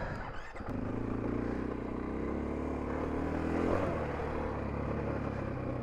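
A 2024 Husqvarna FE501S dual sport motorcycle is ridden, its engine a steady, close drone that swells briefly mid-ride before settling back, with no voices.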